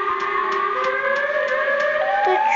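The Siren Head creature in the video game Chicken Gun blares a loud, steady siren with rising, overlapping wailing tones and a faint regular pulse, heard alone.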